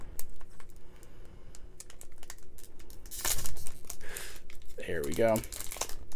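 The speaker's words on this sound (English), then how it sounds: "we'll open one pack" Crinkly foil wrapping of a Japanese Pokemon trading card booster pack is torn open by hand, with a sharp rip followed by crackling rustles, and someone speaks briefly near the end.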